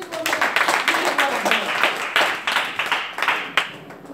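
A church congregation at an all-night prophetic service claps in a quick, fairly regular rhythm. Sharp hand strikes repeat throughout, close and loud, with some voices mixed in.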